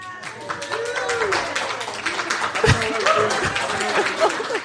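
An audience at a costume contest claps and cheers for a Baby Shark costume, with dense, steady applause and crowd voices mixed in, and a couple of heavier low thumps partway through.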